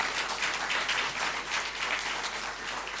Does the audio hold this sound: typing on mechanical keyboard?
no